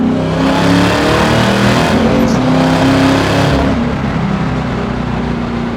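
Supercharged 650HP LT4 V8 in a 1968 Camaro SS restomod cruising steadily in third gear on a public road, a loud continuous low engine drone with a brief swell midway, heard from inside the car.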